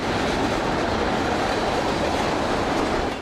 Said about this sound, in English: Sitting at a rail crossing, waiting for a seemingly endless line of tank cars to pass